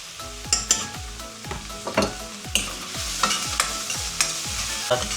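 Onions with salt fry in a pan for a pork peanut curry while a metal spoon stirs them in quick repeated scrapes and taps. The sizzle stays close and moderately loud throughout, with no talking.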